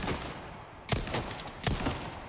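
Bursts of rapid gunfire in Resident Evil 4 Remake crackle in quick succession, three loud volleys with short gaps, harsh and close.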